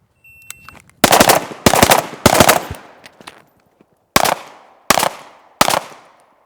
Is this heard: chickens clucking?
no